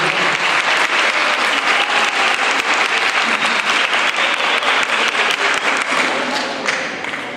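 Sustained, dense applause from a large audience at a tribute ceremony for a teacher-training institution, steady and loud throughout before tapering slightly at the very end.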